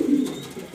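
Colourful pigeons in a loft at Mirpur, Dhaka give a low, throaty coo, close and brief, with soft flutter-like noise behind it.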